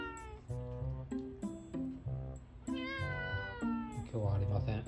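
An orange-and-white tabby cat meows repeatedly at close range, a series of insistent, drawn-out cries with short gaps between them, while a person speaks to it in Japanese.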